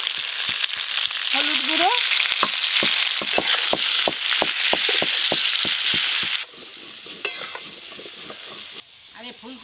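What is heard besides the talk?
cauliflower and potato frying in mustard oil in a wok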